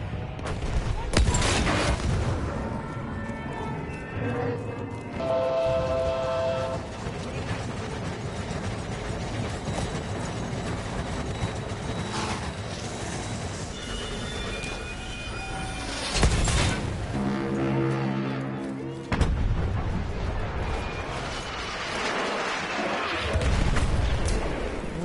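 Explosions and gunfire in the video game Battlefield 1, repeated booms and bursts of shots among mechanical clanks and game tones, steady and loud throughout with no one talking.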